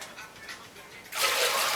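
Cooled boiled water poured into a funnel for yeast washing, a sudden loud rushing gush that starts after a quiet moment and keeps flowing steadily.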